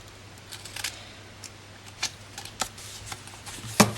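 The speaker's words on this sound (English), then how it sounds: "When you get to one end, just cut that piece there off completely." Scissors cutting a piece of patterned paper while a gift box is crafted, producing a series of soft, irregular snips and paper rustles up close, with a sharper cut near the end and no talking.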